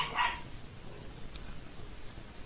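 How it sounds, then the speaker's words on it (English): A single dog bark at the very start, sharp and fairly close indoors, followed by quiet room noise with no further barks. "Excuse my crazy dog."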